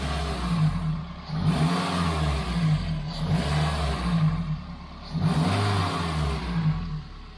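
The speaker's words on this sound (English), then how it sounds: "Let's give it a rev." A Daihatsu Sirion's engine is revved in a few strong swells, the pitch rising and falling as the throttle opens and closes, with the car close by and no talk over it.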